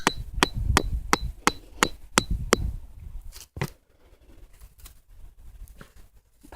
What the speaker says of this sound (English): I'm using the hammer and a really big long screwdriver